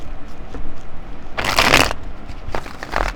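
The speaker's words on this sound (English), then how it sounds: "All right, 2 more shuffles." Tarot cards are shuffled by hand in two brisk riffling bursts, the first longer and louder in the middle, the second shorter near the end, with quiet handling sounds before and between them.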